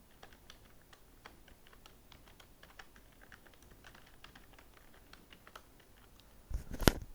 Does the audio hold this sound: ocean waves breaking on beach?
no